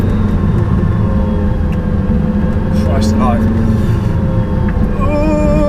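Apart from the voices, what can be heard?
Porsche Carrera GT engine while driving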